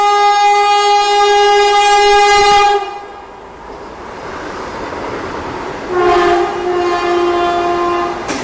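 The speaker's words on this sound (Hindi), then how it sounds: "तो अपनी गाड़ी जो है वो प्लेटफॉर्म नंबर 3 पे लगी है।" A train stands at platform 3 of a former international railway station near the India–Pakistan border and sounds its horn in two long, loud blasts separated by a short gap.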